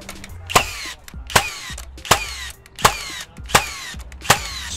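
A Metabo HPT pneumatic nailer fires nails in a steady rhythm, six sharp, loud cracks about three-quarters of a second apart, each with a brief hiss and ringing tail, close up and without speech.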